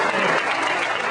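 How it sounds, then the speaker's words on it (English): A short burst of steady applause from a crowd at a mayoral campaign kickoff speech, dense and even throughout. "give them applause"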